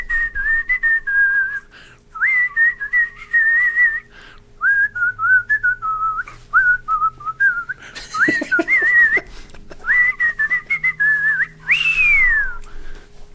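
A person whistles a tune in place of music, bright clear phrases that rise and fall in short bursts with brief pauses, close and loud, ending on a sliding note, with no talk.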